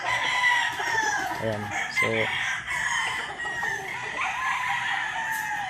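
Roosters and chickens, Boston Roundhead fighting fowl, cluck and crow steadily through the clip with a rooster's harmonic crow rising twice near the middle, and someone speaks briefly over the flock.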